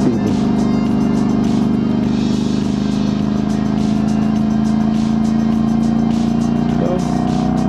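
Motorcycle engine droning steadily while riding through Salt River Canyon on an Indian reservation, a constant loud hum with wind rush throughout and a slight pitch shift near the end.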